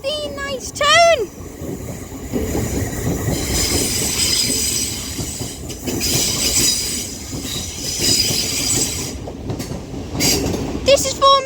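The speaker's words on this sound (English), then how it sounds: "Now passing through is going to be a Transpennine Express Class 802" TransPennine Express Class 802 train running through a Liverpool junction on the 1525 service from Hull, a loud rumbling pass with squealing wheels and rail clatter, a high two-tone horn at the start and end, and a voice heard.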